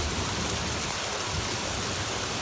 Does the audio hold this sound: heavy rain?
yes